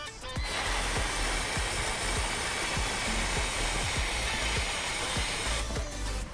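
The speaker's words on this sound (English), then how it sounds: "we're going to use the brake clean just to clean off the residual" Brake cleaner sprayed from an aerosol can onto a dirtbike's brake disc, a loud continuous hiss lasting about five seconds, punctuated by regular soft ticks and followed by brief rustling.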